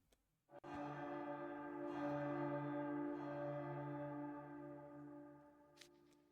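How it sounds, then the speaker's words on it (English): A nighttime bell from the video game Twisted Wonderland tolls once with a bright metallic strike, its long harmonic ring sustaining and slowly fading over several seconds, with a faint extra chime near the end. "Alas, the nighttime bell is rung."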